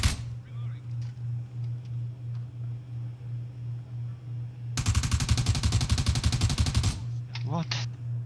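Rapid automatic gunfire from a video game bursts out loud for about two seconds over a steady low hum, followed by a few short scattered shots.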